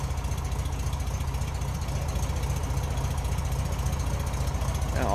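A warmed-up 1953 MG TD roadster replica idles with a steady, low rumble, heard from the rear, close and even, with a faint rhythmic lope and no voices.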